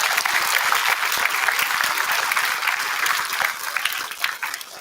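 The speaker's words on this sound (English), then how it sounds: "Round of applause for them" Students at a seventh grade awards day get a round of applause from an audience in a school hall. Dense, lively clapping starts loud and eases off slightly toward the end, with a few sharp individual claps.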